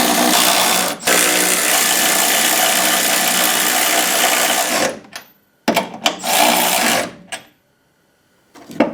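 A welder tacks a 2x4 bar onto a drift car chassis with a loud, steady sizzling crackle that runs for several seconds, then breaks into a few shorter bursts with quiet gaps between them.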